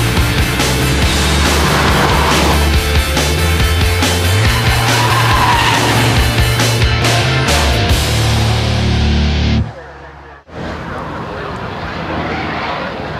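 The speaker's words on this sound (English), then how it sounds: "RPM TV entered a standard Renault Megane RS Cup to tackle the hill." A standard Renault Megane RS Cup races up the Knysna Hillclimb, its engine loud and close as it revs hard, with tyre squeal and a brief drop near the end before the engine roar returns.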